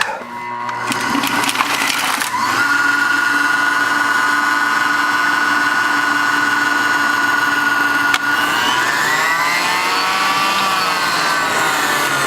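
A motorized grape crusher winds up to a steady, loud mechanical whine after a brief startup clatter, holding a sustained tone for several seconds with a slight pitch wobble near the end, no voices over it.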